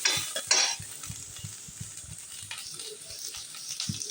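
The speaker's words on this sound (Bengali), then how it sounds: "পেঁয়াজ রসুনগুলো ভাজা হয়ে গেছে।" Onion and garlic frying in a pan, a soft close sizzle with a few clattering stirs and utensil knocks at the start, quiet and without talk.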